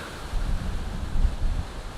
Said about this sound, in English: hopefully today I've got the right audio for this crazy windy weather.